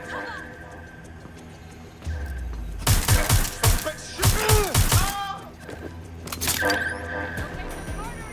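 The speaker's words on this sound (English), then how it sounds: "Shotgun" Shotgun blasts ring out in the video game Watch Dogs Legion, several loud booming shots in two quick clusters with ringing echoes, over game ambience and brief shouted voices.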